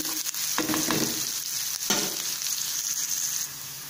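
Onions fry in a pan for a cabbage dish, a loud, steady close-up sizzle broken by a few scraping stirs, with no speech.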